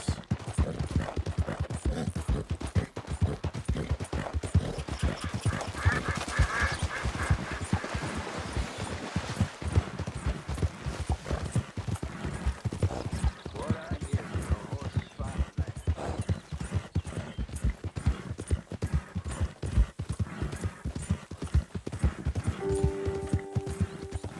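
Horse hooves clip-clop in a steady rapid rhythm throughout a ride in Red Dead Redemption 2, close and continuous, with a brief whinny-like cry partway through and game effects near the end.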